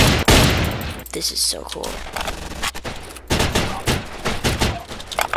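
Gunfire in the Roblox game Ostfront, a World War II shooter, with a burst of rapid shots up front and scattered shots following, while a player talks over the fighting.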